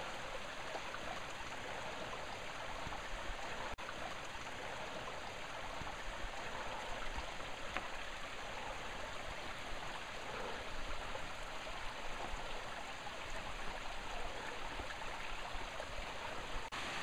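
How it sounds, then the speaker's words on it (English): Waterfall with roughly an 80-foot drop near Spider Falls camp at a cave entrance: a steady, faint, broadband rushing of falling water that continues unchanged with no voices. "You can see the waterfall's about an 80-foot drop."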